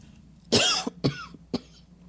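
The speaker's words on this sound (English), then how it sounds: "every time I start talking, then all of a sudden I need to start coughing." Several sharp coughs in quick succession, close and loud, the first one longest, followed by two shorter ones.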